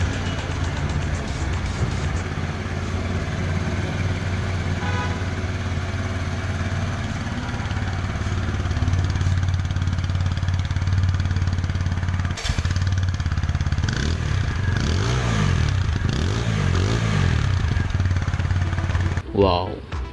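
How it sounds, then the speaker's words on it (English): A TVS Apache RTR 160 4V BS6 motorcycle engine runs steadily up close with a low, continuous idle drone, then is revved several times near the end, the pitch sweeping up and down. "Let's check the sound and firing of this bike."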